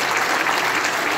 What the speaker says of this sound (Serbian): Molim se još jedan aplauz